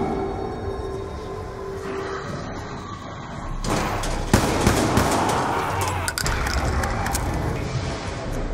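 Gunfire and blasts from a heavy pocket-cannon weapon in Call of Duty Zombies, Mob of the Dead at round 47, erupting as a loud, dense burst of shots and impacts after a quieter opening of game ambience.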